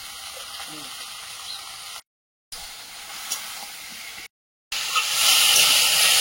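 Bombay duck (lote fish) coated in mustard oil frying in a pan, giving a steady sizzling hiss with two brief breaks that swells noticeably louder toward the end.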